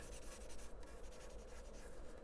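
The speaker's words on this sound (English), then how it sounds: "Shade in the top of his head." Continuous soft scratching of a pencil shading on paper, rough back-and-forth strokes under a steady hiss of room noise, close and fairly quiet.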